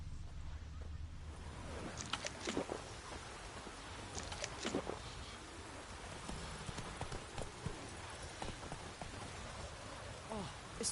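Hooves of Roach, a horse in The Witcher 3, clopping in an uneven galloping rhythm at moderate distance, with rain-like patter in the background and a voice speaking over it.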